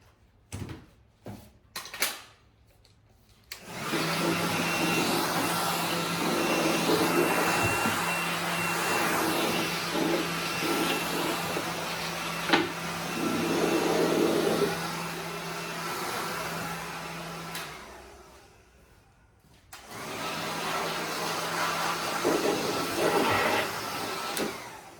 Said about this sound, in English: We'll just use the blower.